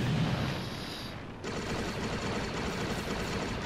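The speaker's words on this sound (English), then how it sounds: "Oh, and now the rest of the base is starting to explode." Continuous rumbling explosions as a base blows up in Disney Infinity 3.0, a dense crackling roar of blasts with a brief dip partway through, steady and loud with no speech.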